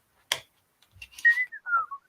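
A person whistles a short SpongeBob SquarePants tune during a relaxed build session, a brief sliding melody of a few notes after a quick sharp sound, heard alone and close.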